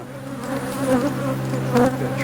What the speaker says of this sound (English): Got some bees that are realizing something's going on.